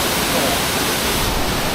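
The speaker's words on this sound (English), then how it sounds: "I think this waterfall is better than the one I've been at yesterday." A waterfall in Chiang Mai, Thailand, heard as a loud, steady, broadband rushing roar close by, unbroken and without other sounds.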